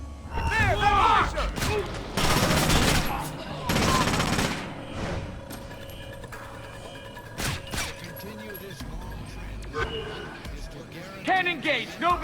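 Heavy bursts of game gunfire from Splinter Cell Conviction, loud sustained volleys in clusters with a voice talking over parts of the action.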